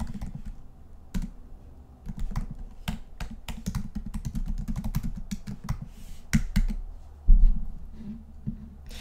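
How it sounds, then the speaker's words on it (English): Typing a question on a computer keyboard: a steady stream of sharp key clicks over a low background hum, with a couple of heavier thumps near the end and no talk. "I'm going to go ahead and type a question."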